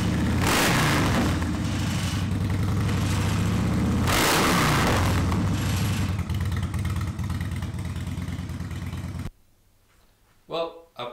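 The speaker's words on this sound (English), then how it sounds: "Pulled the bike off the lift, let it run" A Harley-Davidson Dyna motorcycle engine runs while warming up, a loud close rumble with a couple of throttle swells, then cuts off, leaving near silence and a brief voice at the end.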